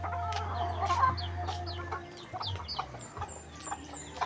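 Chickens clucking and chattering in quick bursts, several birds close by, with a steady low hum fading out partway through.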